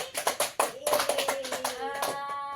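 A small classroom group claps for a student in short uneven bursts, with a voice speaking over the clapping near the end.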